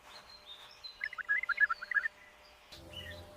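Lyrebird mimicking the calls of surrounding birds: a quick run of sharp chirps and whistled notes, moderately loud, lasting about a second, followed by quieter ambient sound.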